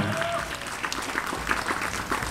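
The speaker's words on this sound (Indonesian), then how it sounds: "tepuk tangan" Audience applause at an Islamic boarding school gathering in Indonesia, a crowd clapping fairly loudly and unevenly over a short stretch, with faint voices mixed in.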